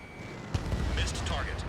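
Missile launch from a fighter jet in Ace Combat 7, a sudden loud burst followed by a rushing roar over steady engine drone, with radio voices speaking over it.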